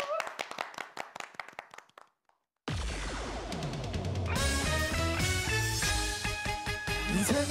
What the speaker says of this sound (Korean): 박수를 청해 듣겠습니다